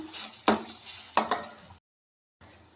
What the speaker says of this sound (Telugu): సరే, ఇప్పుడు మనము 2 eggs వేసాను.